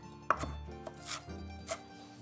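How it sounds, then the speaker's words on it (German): A knife chops fresh parsley on a cutting board while a broccoli tagliatelle bake is being prepared. A few close, irregular chops sound alone with no talking. "hacke in der Zeit die Petersilie"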